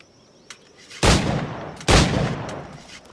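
Two loud, booming firearm shots ring out about a second apart in Assassin's Creed 4 Black Flag, each with a long rumbling decay, over faint ambient background.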